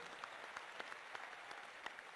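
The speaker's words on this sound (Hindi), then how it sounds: "एक बार गंगा पांडे को भी ताली बजा करके धन्यवाद दो।" A large audience at a Hanuman Chalisa recitation gathering applauds with steady, dense clapping, faint and distant, with no talk over it.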